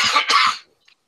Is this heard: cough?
yes